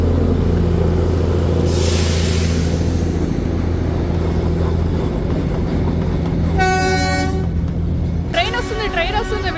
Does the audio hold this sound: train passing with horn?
yes